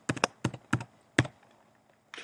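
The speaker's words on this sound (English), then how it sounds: "I'm going to type in" Typing on a computer keyboard, a few quick clustered keystrokes in short bursts separated by brief gaps, close and crisp with no talking.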